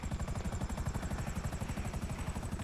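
Rhythmic rotor chop of a helicopter in a video game, steady and close, with a loud pulsing thump and a high whine running through it, no voices.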